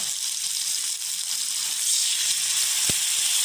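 Water poured into a pan of jackfruit seed coconut curry sets off a loud, steady sizzling hiss that swells slightly toward the end, with no talking.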